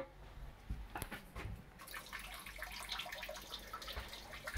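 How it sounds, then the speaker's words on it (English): Water runs steadily into the bowl of a 1987 Murray Savoy toilet with an original wooden seat, a continuous close splashing and trickling fill with a few louder gurgles, heard alone without talk. "We'll fill it up from the water line in the bowl too"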